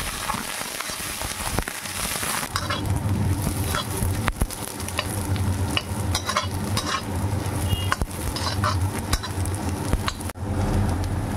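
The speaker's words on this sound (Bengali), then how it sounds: "এবার দিচ্ছি মটরশুঁটি দিয়ে বন্ধুরা ভালোভাবে নেড়ে চেড়ে আবারও মিনিট খানেক ভেজে নেব।" Leftover rice frying with peas and carrots in a pan, giving a steady close sizzle throughout, broken by irregular scraping and clinking stirring strokes, with no voices.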